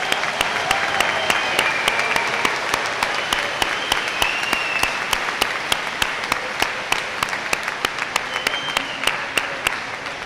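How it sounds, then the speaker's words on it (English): An audience at a senior awards ceremony gives a loud, sustained round of applause for graduating students, with sharp individual claps standing out over a steady, dense roar of clapping throughout. "Let's give a huge round of applause for these students."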